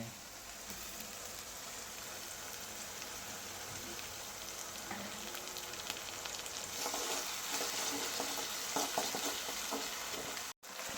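Ginger paste fries in a hot pan with a steady close sizzle, growing a little busier toward the end as stirring scrapes and crackles rise over the hiss.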